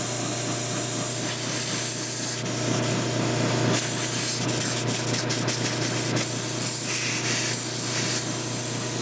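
A steady, loud hiss of air escapes a leaking tire valve that won't seat, continuous and close, with a low hum and faint clicks and scrapes underneath.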